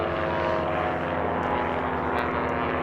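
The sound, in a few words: Christen Eagle two-seater biplanes racing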